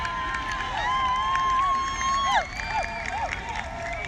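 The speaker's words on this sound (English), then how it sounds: "the East fans are getting louder here" Fans of Hills East cheering at a rainy soccer match, a loud sustained crowd roar with whistles and shouts rising and falling close by.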